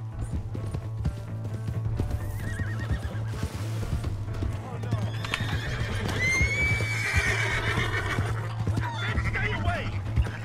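A horse neighs loudly over a steady low hum while hooves clop in the video game Red Dead Redemption 2, and people talk briefly in between.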